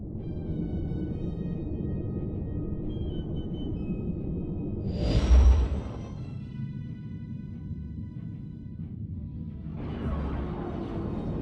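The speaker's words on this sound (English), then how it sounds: "Exiting hyperspace now." A starship exits hyperspace in the Star Wars: The Old Republic video game: a swelling whoosh rises over a steady low engine rumble, followed later by a second, softer rush of air.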